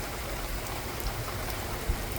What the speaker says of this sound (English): I'm gonna get one more shot of the rain on these sunflowers